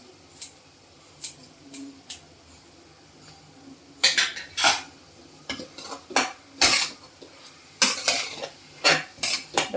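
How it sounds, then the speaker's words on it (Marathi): Onion and tomato chutney being stirred in a pan, with a metal spoon scraping and clinking against the cookware in a run of sharp, irregular knocks that grow louder and busier partway through. "परत असं छान आपण हलवून घेणार आहोत"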